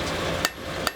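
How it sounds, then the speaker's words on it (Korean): A blacksmith's hammer strikes metal in a forge, two loud, ringing clanks about half a second apart over steady workshop background noise. "망치 소리"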